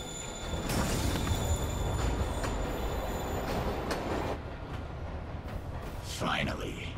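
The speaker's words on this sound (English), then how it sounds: "Train moving." A train in a Spider-Man video game pulls away from a platform, its steady rumbling roar and squealing wheels filling several seconds before the noise thins, with game voices briefly heard.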